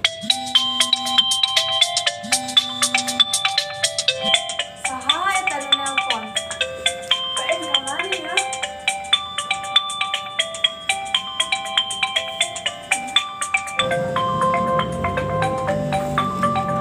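A mobile phone rings with a repeating melodic ringtone for an incoming call, loud and close, playing continuously before the character answers; the tone shifts near the end as background noise rises.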